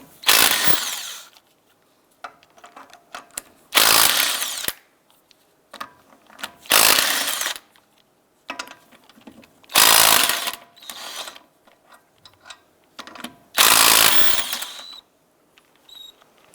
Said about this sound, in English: Using a 19mm socket, go ahead and remove the lug nuts.